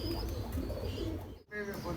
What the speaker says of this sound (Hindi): साधना वाले कबूतर है